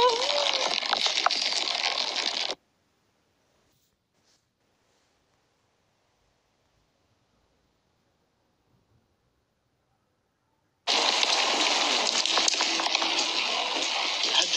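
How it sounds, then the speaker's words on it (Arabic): Steady rain falling in a broadband hiss, loud and close, that cuts out to near silence for several seconds and then returns just as strong. "اسمع صوت المطر اسمع"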